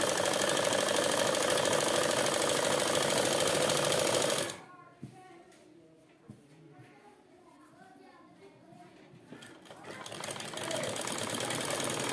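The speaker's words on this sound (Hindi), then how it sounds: "तो हम यहाँ पे इस तरह से यहाँ सिलाई लगाएंगे इसमें ट्राउज़र की" A sewing machine stitches the front seam of a girl's trouser, running in a fast, loud, steady rattle before stopping abruptly; quiet handling and a voice follow, then the machine starts up again near the end.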